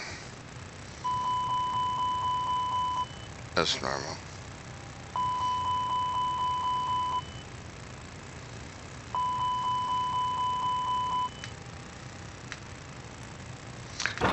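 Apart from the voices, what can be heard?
chirping beep like a smoke detector from Airbus A320 system setup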